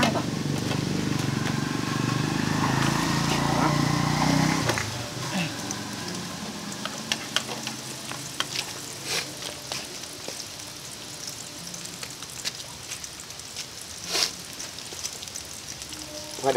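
Shrimp frying in hot oil in a pan, a loud dense sizzle with crackles for the first few seconds, then a fainter, sparser spatter of pops and hisses.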